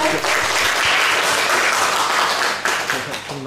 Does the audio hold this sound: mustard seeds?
no